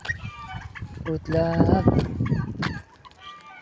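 Young chickens clucking on a farm, with short bursts of clucks and calls rising in the middle, while a person speaks nearby.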